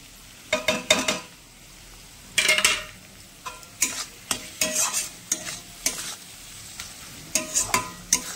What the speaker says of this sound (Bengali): এটা আর একটু কষানো হয়ে গেলে আলুগুলো ছেড়ে দেবো